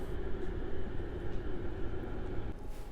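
EU200 electric locomotive, lightly snow-covered and iced, heading the Express Intercity Morskie Oko train at Warszawa Centralna, giving a steady low rumble and hum with a faint tonal whine, heard alone.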